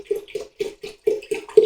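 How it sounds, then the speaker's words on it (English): Mineral water poured into a Pinter 2 brewing keg, heard as a steady series of rhythmic glugging bursts, each about a quarter second apart, moderately loud and close. "So I'm going to pour this water in"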